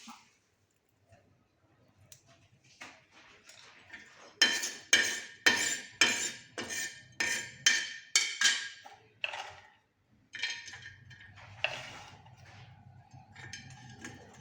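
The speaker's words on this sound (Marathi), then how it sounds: "हे पा खोबरं टाकलं मी तव्यावर" A metal spatula scrapes across a hot griddle in about a dozen quick rhythmic strokes, stirring coconut as it toasts over low heat.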